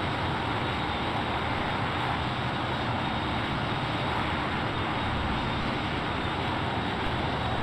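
An F-15 fighter jet engine runs with its afterburners off, a loud, unbroken roar that holds constant from start to finish with no voices.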